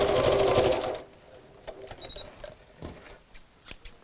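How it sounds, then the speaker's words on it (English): A sewing machine runs in a fast continuous burst as it tacks across the end of the fabric for a box bag, then stops, leaving a few faint clicks and handling sounds. "I'm just going to tack across the end, just to hold those in place while I sew"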